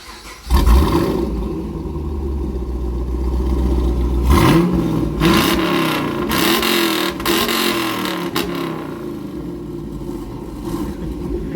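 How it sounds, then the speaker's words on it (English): A Chevrolet Camaro SS engine with high-flow catalytic converters starts with a thump, idles deep and rumbling, then revs up loudly a few times before settling back, close by. "See what she sounds like."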